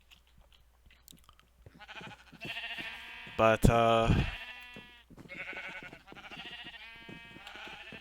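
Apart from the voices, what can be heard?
sheep bleating in Minecraft video game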